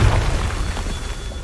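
A Confringo spell blast in Hogwarts Legacy, heard as a single deep, booming burst that rolls out and fades over about a second and a half, loud and alone.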